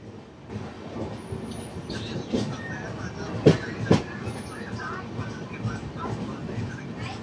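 The Doon Express passenger train (13009, Howrah to Ayodhya) rumbles steadily on the rails, heard from on board, with a couple of sharp clacks from the wheels and faint voices in the background.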